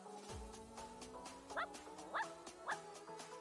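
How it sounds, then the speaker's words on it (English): Several small cartoonish dogs yip and bark in The Sims, a string of short, close barks with a steady tonal hum running underneath and no talk. "They're just all barking."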